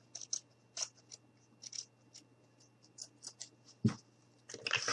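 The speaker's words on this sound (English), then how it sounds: "Now, I'm just going to go ahead and continue to cut." Scissors snip through material for making gnome shoes, a string of separate crisp close cuts in irregular rhythm, with a louder rustle of handling near the end.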